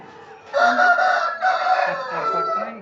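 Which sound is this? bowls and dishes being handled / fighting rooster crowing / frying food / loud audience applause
fighting rooster crowing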